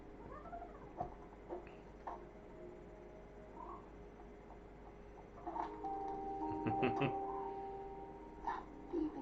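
A cat in the video game The Inner World meows faintly in short, sing-song cries. The meows rise among quiet game sounds and background noise, with a brighter cluster of them near the end.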